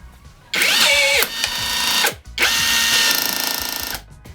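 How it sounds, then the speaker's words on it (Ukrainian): A Revolt cordless rivet gun drives twice in loud close bursts, setting a rivet and then ejecting the stem, with motor whine and ratcheting between brief pauses. "він працює в двох режимах, тобто спочатку заклепує, потім випльовує стержень"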